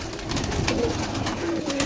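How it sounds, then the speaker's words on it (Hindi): Pigeons coo softly and repeatedly at close range, with low murmuring calls overlapping against a steady background hum. "145 कबूतर"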